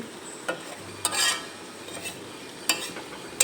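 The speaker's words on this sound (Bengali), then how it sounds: "দেখো এখানে আমি একটু নেড়ে চেড়ে নিলাম।" Curry stirred in a kadai after the lid comes off, quiet low simmering broken by a few sharp scrapes and clinks of a spoon against the pan, close up and without any talk.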